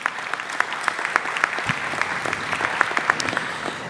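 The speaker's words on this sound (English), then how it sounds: "Let's give them a round of applause." An audience at a school district educators' convocation claps in a moderate, slightly uneven round of applause, individual sharp claps standing out near the listener, steady throughout without talk.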